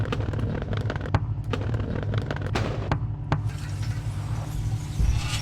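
Firecrackers set off near a home, a rapid series of sharp cracks and pops over a low rumbling background, giving way to a fizzing crackle near the end.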